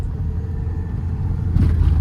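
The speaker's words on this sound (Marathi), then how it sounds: "गाडी पळते मस्त आहे" A car drives along the road with a steady low engine rumble heard from inside. The rumble swells near the end as it picks up.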